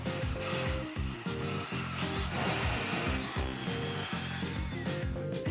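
A power tool grinds into oak cabinet wood nearby, its motor pitch rising and dipping in repeated passes under a constant hiss of rough cutting.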